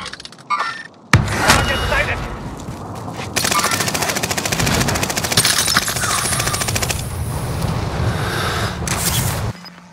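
Call of Duty Warzone gunfire: a sharp shot, then long sustained bursts of rapid automatic fire, loud and close, with fainter voices mixed in.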